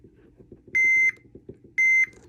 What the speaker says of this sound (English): multimeter on the beep scale.